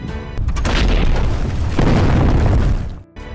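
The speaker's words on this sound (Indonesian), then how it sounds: "Pertempuran pun diawali dengan tembakan anti-tank dari tentara Uni Soviet dan tidak lama dibalas oleh tank tentara Jerman." Anti-tank guns and German tanks fire in a World War II battle scene from the war film Panfilov's 28, heard as a loud, heavy blast swelling into a sustained rumbling roar for about three seconds before cutting off abruptly.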